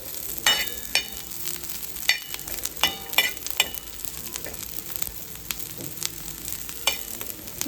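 Onions and green chillies fry in a pan with a continuous sizzle, punctuated by sharp, irregular crackles and pops at close range.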